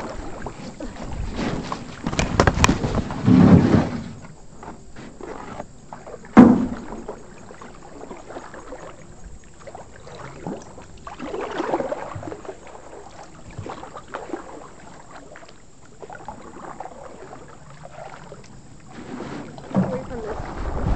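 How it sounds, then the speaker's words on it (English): Paddles splash and knock against a boat on a river, loudest early on, set among wind buffeting the mic and scattered voices calling out. "You got to paddle so we can get up there."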